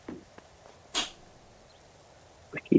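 A single sharp sneeze bursts out in a quiet room, followed moments later by a brief spoken response.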